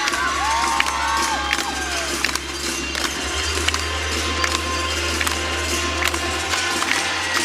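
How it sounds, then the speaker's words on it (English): Teammates cheer and shout for a gymnast during her floor routine at a college gymnastics meet, a steady wash of crowd noise and whoops filling the arena throughout. "Seeing her teammates cheer her on."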